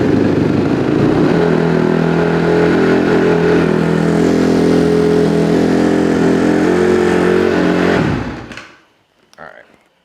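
A Honda CRF dirt bike engine idles steadily and loudly up close for about eight seconds, then cuts off abruptly, leaving near-silence with a faint knock afterward.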